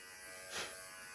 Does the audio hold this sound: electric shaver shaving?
yes